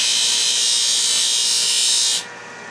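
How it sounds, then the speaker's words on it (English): An electric sander whirs at a constant high pitch, near and loud, for about two seconds, then cuts off abruptly as it is switched off, leaving a quiet hum behind. "I just turn on my sander."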